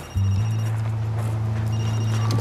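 A telephone in a bistro rings in a French TV crime drama, a loud, sustained, buzzing electronic ring that starts abruptly and carries on steadily without any talk.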